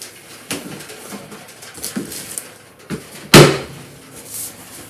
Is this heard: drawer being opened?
yes